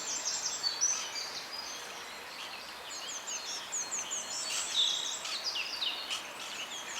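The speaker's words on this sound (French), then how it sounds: "Pas de bruit, avec en plus tous ces chants d'oiseaux." Birds sing and chirp in a quiet, car-free valley, with soft, scattered high calls and trills at moderate distance over a very hushed background and no voices.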